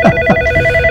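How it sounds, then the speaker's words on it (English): A mobile phone goes off during a live call-in broadcast, its electronic ringtone chirping in two quick bursts and then holding a steady tone, close and fairly loud. "my phone's going off"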